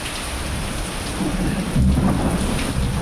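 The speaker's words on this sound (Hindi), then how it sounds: "और ज़ोर ज़ोर से बिजली कड़क रही है," A thunderstorm in Dehradun with thunder rumbling through heavy rain, a low swelling roll rising over the steady loud hiss of rainfall, no voices present.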